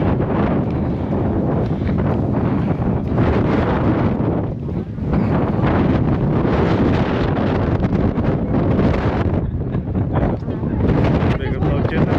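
Strong storm wind at Zabriskie Point in Death Valley, California batters the microphone in a continuous loud roar with gusty surges and rumbling buffeting. The roar runs for the whole stretch with no break.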